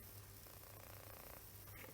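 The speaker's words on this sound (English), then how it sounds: "That's the cat." A cat purrs softly and continuously close to the microphone, a low, steady rumbling throughout with no other sounds.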